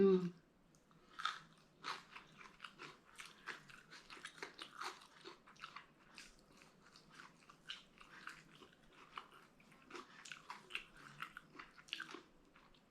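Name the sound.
eating papaya salad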